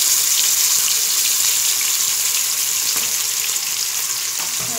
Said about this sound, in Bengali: সুন্দরের জন্য আমি এখন মুরগিটা ভাজার জন্য এখানে 3 টেবিল চামচ তেল দিয়ে দিয়েছি। এখন আমি মুরগিটা দিয়ে দিব।